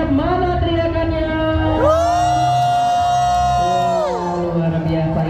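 An audience at Sea World Ancol shouts and cheers back at a show host, rising into one loud, sustained, drawn-out collective yell over a steady crowd murmur.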